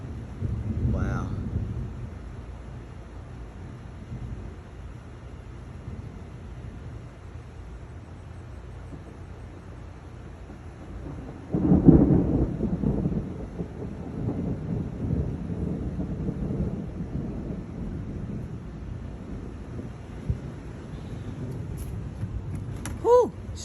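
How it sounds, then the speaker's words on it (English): Low thunder rumbles during a lightning storm, one deep roll swelling midway and fading slowly, under steady wind noise buffeting the microphone outdoors, with faint voices at times. "We got ourselves a good lightning show."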